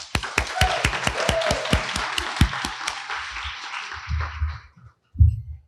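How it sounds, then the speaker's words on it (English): Wedding guests clap for Susie and Jeff in a crisp, rhythmic round of close applause that fades out after about four seconds, followed by a couple of low thumps. "So let's give them a round of applause."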